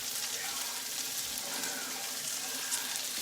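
Spaghetti carbonara ingredients sizzle steadily in a pan, a soft continuous frying hiss close by with no other sounds.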